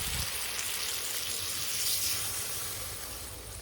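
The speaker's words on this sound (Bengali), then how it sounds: "এবার এর মধ্যে দিয়ে দেবো আমি পরিমাণ মতো জল।" Water poured into a pan of spiced potato, green banana and tilapia fish curry, a steady soft hissing pour with a faint sizzle, continuous and fairly quiet throughout.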